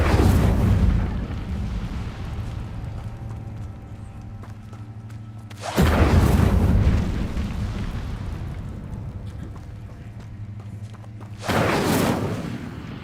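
Three whooshing fire bursts from the Incendio spell being cast in Hogwarts Legacy, each a loud broadband flare spaced several seconds apart over a low steady game hum, with no talking.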